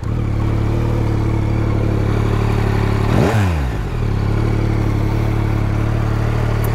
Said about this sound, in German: Wollen wir doch mal hören, wie immer auf Bike for Fun, was der Dreizylinder so an Klang rausbringt.